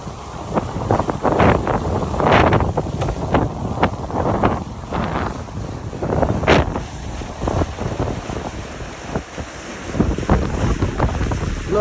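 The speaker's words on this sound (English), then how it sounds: "Lovely motion through the water." A sailboat moves through the water at about 8 knots in 12 knots of wind, water rushing and splashing against the hull in uneven surges while strong wind buffets the microphone close by, with no voices.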